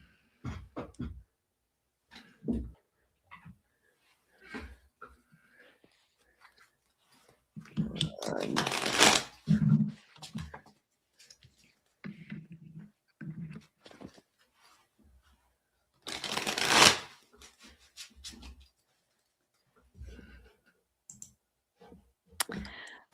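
A deck of cards is shuffled during an intuitive card reading. Two louder riffling bursts stand out among scattered soft clicks and handling taps, with quiet gaps between them.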